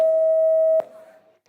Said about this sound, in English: Please press your buzzer.